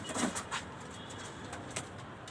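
Pigeons in a loft, a few soft, low coos and faint rustling close by, with a steady background hiss throughout.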